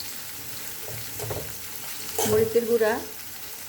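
Ground spices, ginger-garlic paste and chili powder sauté in hot oil for a shing fish curry, a soft sizzle with stirring scrapes that swells louder near the end, while someone speaks briefly.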